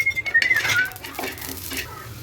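Onion with cumin, pepper, ginger and coriander roasting in a pan for village-style mutton rasa, with a utensil scraping and clinking against the metal pan in a few quick strokes, close and clear.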